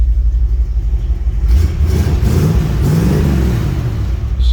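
A 1968 Ford F100 Custom pickup's freshened-up engine rumbles close and loud, swelling through a steady rev with a deep low-end growl, no voices.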